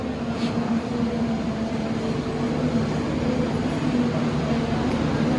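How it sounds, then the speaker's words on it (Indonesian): Pandalungan passenger train hauled by a locomotive pulling into Bangil station, a steady loud rumble of rolling wheels and engine drone throughout with no voices. "Ini dia kereta api Pandalungan masuk stasiun Bangil."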